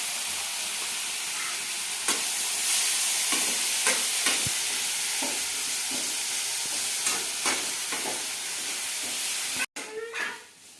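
Vegetables sauté in a pan with cumin, mustard seeds and turmeric, a loud continuous sizzle broken by repeated scraping stirs, ending with a sharp clatter and a burst of hissing.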